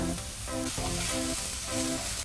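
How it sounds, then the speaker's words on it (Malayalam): A quarter of a large white onion, chopped, hits hot olive oil and sizzles in a steady, loud hiss, with faint tonal background sound pulsing beneath it. "എണ്ണ ചൂടായി, അതിലേക്ക് ഒരു വലിയ വൈറ്റ് ഓണിയൻ്റെ 1/4 ഭാഗം അരിഞ്ഞു വെച്ചത് ഇട്ട് കൊടുക്കുകയാണ്"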